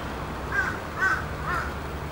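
Crow cawing outdoors in a few separate calls spaced about half a second apart, moderately near, over a low steady background hum.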